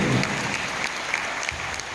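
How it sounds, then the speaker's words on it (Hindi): Audience applause at a network-marketing seminar in Patiala, a dense, steady wash of many hands clapping at close range that holds evenly for about two seconds. "जोरदार तालियां होनी चाहिए।"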